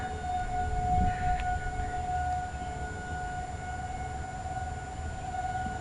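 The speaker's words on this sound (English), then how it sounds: "And the sirens are going off." Civil defense sirens sound a tornado warning as a big storm approaches, a sustained steady wail carrying across the area, fairly distant and continuous over a low rumbling background.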